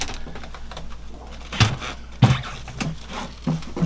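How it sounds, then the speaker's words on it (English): The sound attenuation shield of a Northern Lights 12kW generator being pulled off, giving a few close, hard knocks and clunks amid quieter rustling handling noise. "This is the sound attenuation shield coming off."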